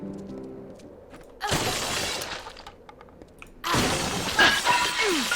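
Wooden crates being smashed in the video game Kingdoms of Amalur: Reckoning, two loud crashing breaks with crackling debris over faint background music, alone without talk.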